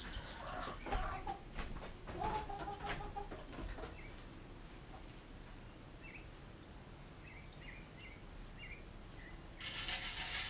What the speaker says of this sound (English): The chickens love when I give them some bird seed, like sunflower seed stuff.